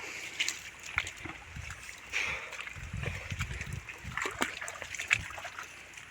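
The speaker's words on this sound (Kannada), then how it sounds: "ಅಲ್ಲಿ ಮೇಲಿಂದ ಬರುತ್ತೆ ನೀರು ನೋಡಿ ಇಷ್ಟು ಬರ್ತಾ ಇರುತ್ತೆ" Irrigation water runs into a paddy field beside a ginger plot, giving a steady outdoor trickle with small splashes and gurgles at a moderate distance, no talking over it.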